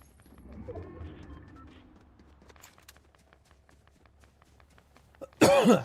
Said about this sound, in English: Sorry, I'm coughing in the mic.